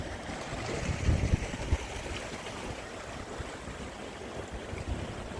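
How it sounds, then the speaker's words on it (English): Waves breaking over coastal rocks at Canal Rocks, Yallingup, Australia, a steady close wash of surf with a few heavier low surges rolling through, no talking. "Waves breaking over the rocks just in front of us."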